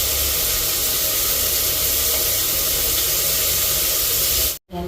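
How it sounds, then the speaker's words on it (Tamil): A rice cooker steaming rice in a home kitchen, giving a steady, close hiss that runs unbroken and then cuts off abruptly near the end. "ரைஸ் குக்கரில் சோறு போட்டிருக்கேன்."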